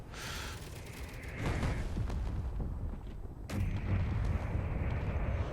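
Heavy, booming weapons fire from a spaceship in Space Engineers, with deep rumbling blasts and a sharp crack partway through over a continuous low roar.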